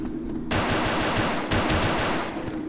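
Rapid pistol fire in the horror game Afraid of Monsters, two dense bursts of close, loud shots, one starting just after the opening and another about a second later, with no talk.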